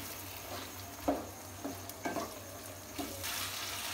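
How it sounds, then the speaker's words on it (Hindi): Boiled kidney beans stirred into frying masala for Kashmiri rajma curry, a soft steady sizzle broken by several scraping spoon strokes and clunks against the pan, no talk. "मसाला को थोड़े से भूनने के बाद आई विल ऐड राजमा। ये बॉइल्ड राजमा को मैंने दे दिया। Mix it."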